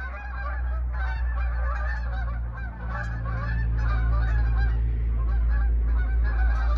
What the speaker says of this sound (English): Look at that big old line of geese